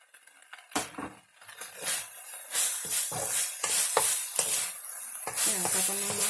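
Frog legs stir-fried dry with lemongrass and chili, with little water in the pan: close, steady sizzling broken by repeated scraping stirs and light metal clinks of the utensil against the pan.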